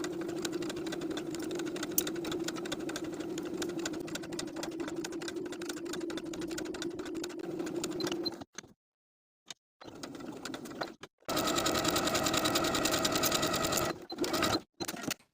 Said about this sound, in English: Now I'll sew the lace in place all the way around along the bottom and top edges of the lace.